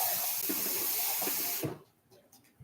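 A kitchen tap runs in a steady, loud hiss for about a second and a half, then shuts off, leaving quiet clinks and small room sounds.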